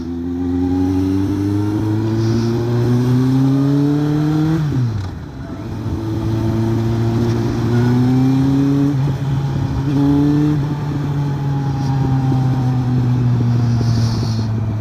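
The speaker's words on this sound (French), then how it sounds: "ça fait du bien de se balader un petit peu en moto" A motorcycle rides along a road, its engine droning loudly and close with a steadily climbing pitch, a brief dip as it shifts gear midway, then pulling again at a smooth, even roar.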